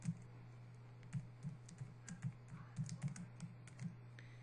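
Quiet, irregular keystrokes tap on a computer keyboard, close by, over a low steady electrical hum.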